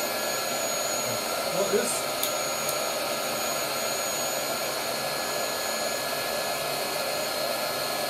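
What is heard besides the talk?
biogas blow torch flame roaring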